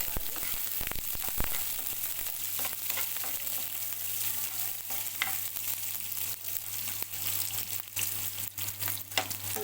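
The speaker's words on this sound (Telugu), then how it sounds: "ఆనియన్ పచ్చిమిర్చి అయితే వేసుకోవాలి కలుపుతూ అయితే వేగండి" Chopped onion and green chillies fry in a pan with little oil while being stirred, a steady close sizzle with scattered scraping clicks of the spoon throughout.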